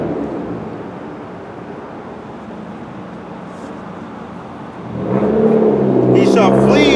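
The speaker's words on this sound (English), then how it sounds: "Hate those fucking cars, man." A car engine hums steadily in the distance, then swells louder as a vehicle passes close by at the end.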